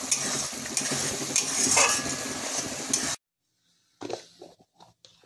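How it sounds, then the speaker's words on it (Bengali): Prawn malaikari cooking in a pan, a steady close sizzle with spoon stirring and scraping, then a brief silence followed by a few more scattered stirring clatters, no talking. "চিংড়ি মাছের মালাইকারিটা এখন হচ্ছে।"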